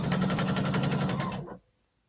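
A sewing machine stitches a quilt border in a steady, rapid mechanical whir with a regular needle rhythm. It runs close and loud for about a second and a half, then stops abruptly and leaves silence.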